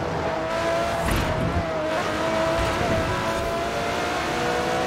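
Sports car in Forza Horizon 4 screaming up to 430 km/h, a loud continuous engine roar with rising whine and tire noise, steady and close throughout.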